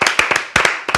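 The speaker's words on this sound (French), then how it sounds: "vous pouvez l'applaudir" A studio audience at a Purim-themed television show claps in a quick, close burst of about a dozen sharp, uneven handclaps lasting roughly a second.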